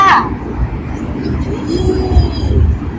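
A voice imitates a train chugging in a children's lesson, a short burst of rhythmic puffing that builds and pulses over about three seconds.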